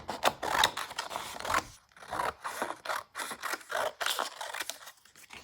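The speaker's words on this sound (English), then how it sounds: "Then I am roughly going to cut around these circles." Scissors cut roughly around printed photo circles, a series of close, crisp snips and paper rustles in uneven bursts with brief pauses between cuts.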